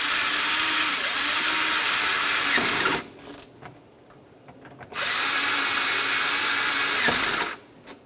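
A power drill or driver runs in two long steady whining bursts while tightening mounting bolts on a 1998-2002 Lincoln Navigator tailgate, separated by a quieter pause with faint clicks and handling noise.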